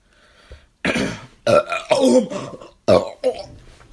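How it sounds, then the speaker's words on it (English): A person lets out a series of loud, close burps, several short eructations in a row with brief pauses between them. "Burping. Burping."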